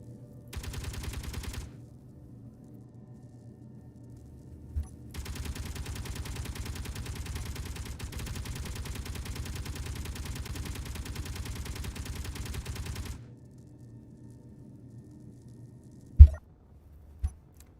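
Machine gun fire from Space Engineers comes in two sustained bursts, a short one and a long rapid stream of about eight seconds, then a single loud bang near the end.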